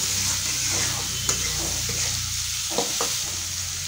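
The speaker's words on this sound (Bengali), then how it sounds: "তো এবার ভালো করে এগুলো ভেজে নেব" Ingredients for chow mein fry in a pan with a steady, close sizzle, broken by a few sharp scraping clicks of stirring near the middle and end.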